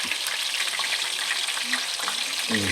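Calamari frying in a pan of hot oil, a loud, dense, continuous sizzle with crackling spits and an occasional stir, steady throughout with no voices.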